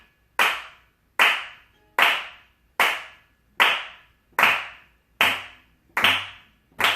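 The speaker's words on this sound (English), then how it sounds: "Then palmas claras, you take 3 fingers, and you find that little sweet spot in the middle of your hand, and you make a crisper," Flamenco palmas claras, crisp three-finger hand claps, ring out one at a time in a steady, even rhythm, about nine sharp close claps, each with a short decaying ring, alone without talk.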